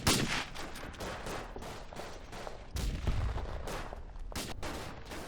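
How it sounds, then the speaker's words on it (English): Gunfire rattles through a match of the video game Verdun on the Argonne map, dense overlapping shots and bursts rolling continuously at moderate volume with a heavier boom near the middle. "you'll see that I'm shooting people on the flanks"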